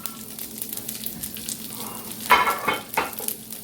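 Green beans sizzling as they fry in a pan, a steady crackling hiss with a few brief louder spatters.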